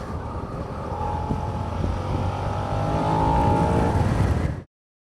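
A Suzuki SV-7GX motorcycle engine pulls hard under sustained acceleration, a steady loud roar that swells for about four and a half seconds before cutting off abruptly.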